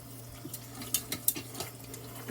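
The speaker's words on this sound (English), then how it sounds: "Then we're going to rinse that meat off really, really, really good." Tap water runs into a sink as meat is rinsed in a drainer, a faint steady flow with a few soft splashes and drips, close by and brief, with no talking.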